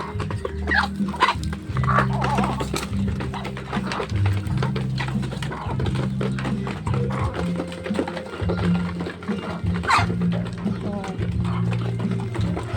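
Backyard chicks and chickens cluck and peep steadily while being fed, with a person calling to them and talking over the birds throughout.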